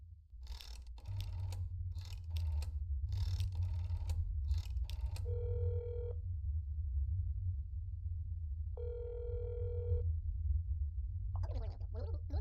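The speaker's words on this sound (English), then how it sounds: "I'm just gonna phone your apartment real quick." Telephone ringing in the horror video game That's Not My Neighbor: two long electronic ring bursts with a gap between them, clear and steady over a low background hum, preceded by a run of short beeping keypad tones.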